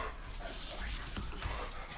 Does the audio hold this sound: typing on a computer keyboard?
no